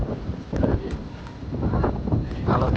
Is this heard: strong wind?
yes